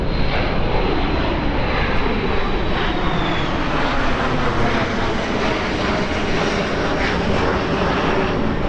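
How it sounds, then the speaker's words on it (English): A three-engine Falcon jet roars loudly as it takes off from London City Airport, a sustained, broad, steady engine rumble with a faint whine that fades slightly. "Lovely three engines of the Falcon there."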